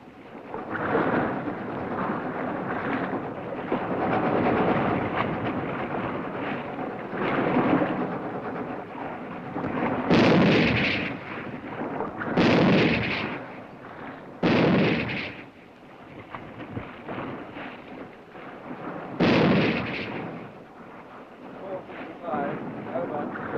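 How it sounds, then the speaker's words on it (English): Naval ships bombard the beach before the Tarakan landing, with heavy rumbling booms and sharp blasts rolling under a continuous roar, while a narrator speaks over it. "preceded by a severe bombardment from naval ships and strikes by aircraft, the landing on the beach at Tarakan commenced"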